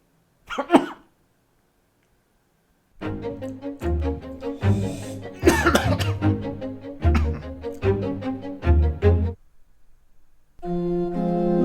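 Harsh coughing fits burst out repeatedly, one short cough first, then after a pause a long run of loud, rough coughs and throat sounds, close and with no speech over them.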